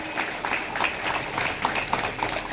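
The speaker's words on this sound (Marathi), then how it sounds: "जरा जोरात टाळ्या द्या महाराजासाठी" An audience applauds a kirtan performer at a Marathi devotional gathering, producing steady, moderately distant clapping from a crowd that stays even throughout.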